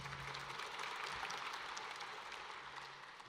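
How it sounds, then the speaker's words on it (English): Audience applause at a state awards ceremony for a student invention competition, a dense steady wash of clapping from a crowd that holds loud throughout before easing slightly at the end. "we need to give them a huge round of applause"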